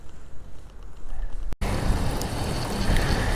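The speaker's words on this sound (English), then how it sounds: "The wind's probably picked up 20, 30 mile an hour." Strong wind blowing at roughly 20 to 30 miles an hour outdoors while fishing, a steady, loud rushing roar that follows a brief cut, with no voices.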